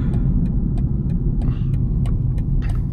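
A BMW 220d with a diesel engine accelerating hard with wheel spin, a loud low engine rumble heard from inside the car, with scattered brief clicks and thumps over the drone.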